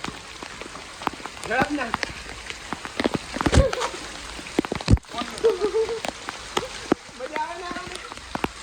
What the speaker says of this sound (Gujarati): ફૂલ અત્યારે વરસાદ ચાલુ છે